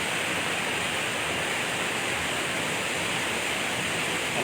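A waterfall in Mindoro Oriental pours in a steady, dense broadband rush, loud and unbroken, with no voices.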